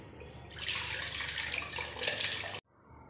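Tomatoes and water pour into a large blender jar in a steady gushing splash for a couple of seconds, then stop abruptly.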